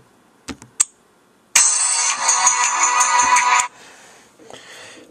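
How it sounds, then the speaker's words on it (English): A mobile phone ringtone plays loud and close for about two seconds after a few sharp taps, then cuts off into faint background hiss. "that's all my ringtones I have on my phone"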